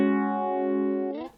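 A guitar tone run through the Script Mod phaser on a Line 6 Helix sustains as a swirling, effected note, then bends and fades out after about a second, heard alone.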